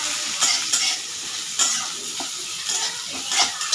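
Onions fry in a pan with a bright, continuous sizzle, while a spatula repeatedly scrapes and stirs through them in uneven strokes close by.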